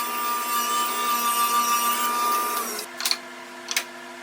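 A table saw whirs with a steady, high whine cutting a wooden picture-frame piece against the fence, then cuts off and winds down, followed by a couple of short knocks.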